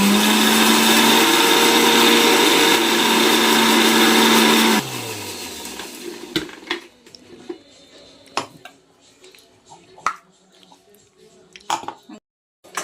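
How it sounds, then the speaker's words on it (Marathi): A mixer grinder whirs loudly and steadily as it blends cashews into a paste, then spins down and stops, followed by scattered clicks, knocks and handling sounds at moderate distance. "काजू बारीक करून घेऊया आपण. पेस्ट बनवून घ्यायची."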